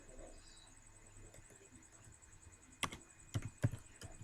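A few computer keyboard keystrokes sound while a memo is typed into accounting software, quiet and close, with a soft lull and then three sharp clicks near the end.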